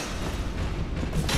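An enemy explosion in the video game Dark Souls, a dense, rumbling blast filling the short moment at a steady loud level and swelling slightly at the end, with no talk.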